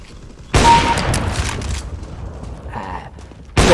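A P90 submachine gun fires in the video game CS:GO, a loud rapid burst lasting over a second, then a quieter tail, and a second burst starts at the very end.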